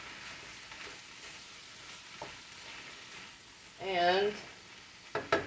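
Corn being stirred as it fries in a wok for ramen: a soft, steady sizzle runs under occasional speech, with a brief louder spoon-and-pan scrape near the end.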